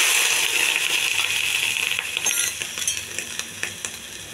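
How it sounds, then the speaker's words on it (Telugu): Boiled peas dropped into a pan of frying onions and curry leaves, a steady loud sizzle with scattered metallic clinks and scrapes of the spoon against the pan, no voices. "ఉడకబెట్టిన బఠానీ చూడండి వేసేయాలి"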